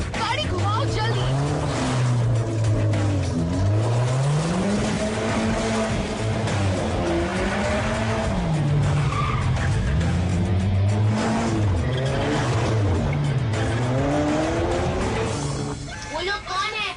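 Car turning sharply as its tires skid and squeal, a loud wavering screech over a revving engine, sustained and close, with voices talking over it.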